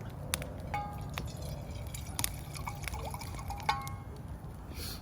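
Buffalo Trace bourbon poured outdoors on a cold winter backyard campout into a Yeti cup: a close liquid trickle with scattered drips and small clinks, steady and moderately quiet against faint outdoor background, with no talking.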